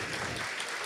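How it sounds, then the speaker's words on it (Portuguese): Brief, dense clapping from the audience at a congress award ceremony, a steady wash of many hands at moderate volume. "É isso aí, salva de palmas."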